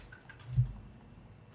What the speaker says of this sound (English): I hear you typing the river into the search result into the Google search bar now